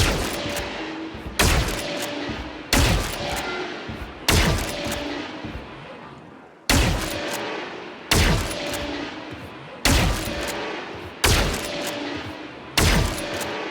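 Loud, close gunfire in a competitive shooter video game, fired in short bursts, each followed by a decaying echo, repeating at fairly regular intervals about every one and a half seconds.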